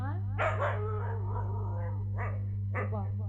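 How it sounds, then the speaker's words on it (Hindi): A dog barks at night in a rural village, a few separate yaps spaced apart over a steady low electrical hum. "एते बड़ी रात के कुत्ता कत लागे छै"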